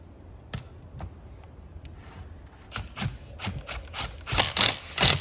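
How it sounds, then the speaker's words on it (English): A power tool tightens a fitting onto a pipe while replacing the main housing of a Titan Wagner sprayer, giving short ratcheting, rasping bursts near the mic that grow louder and more frequent toward the end. "now I'll go to the power tool"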